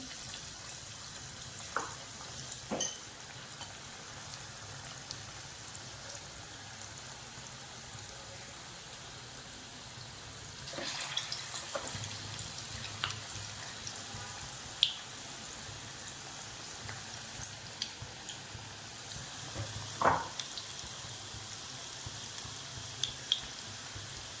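Stuffed chillies for chilli bhaji fry in hot oil, giving a steady soft sizzle with scattered pops and crackles that grow busier partway through.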